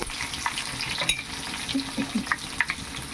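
Crushed garlic cloves frying in a pan, a steady sizzle with scattered spatula scrapes and clinks as the garlic is stirred.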